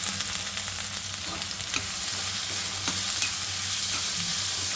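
Onion and curry leaves fry in a hot pan for an onion and chana dal curry, giving a steady, dense sizzle with faint stirring scrapes throughout.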